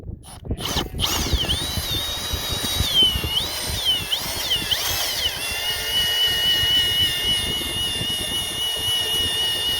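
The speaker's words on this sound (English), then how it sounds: "So I just take my drill. I just put the hook in there like that." A power drill whines steadily and close, driving a screw hook into place in a sheep barn, its pitch rising and falling as the hook goes in, with mechanical rattling underneath throughout.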